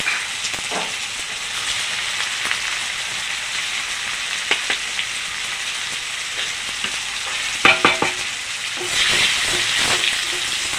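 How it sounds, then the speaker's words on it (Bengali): Dried red chillies, whole cumin and chopped garlic tempering in hot oil, a continuous bright sizzle with scraping stirs and occasional spatters, rising louder near the end. "নেড়ে ছেড়ে ফোড়নটাকে ভেজে নেব।"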